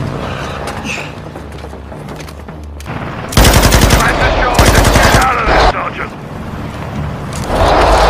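Heavy machine gun fire in a Call of Duty: Modern Warfare cinematic battle, loud sustained automatic bursts breaking out after a few seconds amid explosions and battle noise, with voices shouting over the fighting.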